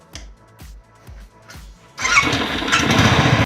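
Several short cranking attempts in a row, then a Royal Enfield motorcycle engine catches and roars into a loud, steady idle.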